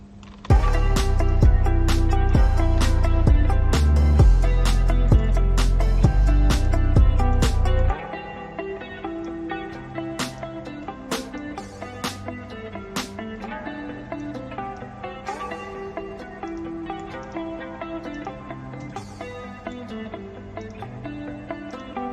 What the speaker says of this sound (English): I'm gonna try to make this guitar melody here unique and reverse it